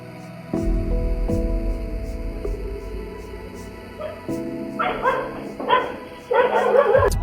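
Barks from Blackie, a watchful house dog in a home in the Philippines, come in several short loud bursts in the latter half, with a low steady hum beneath.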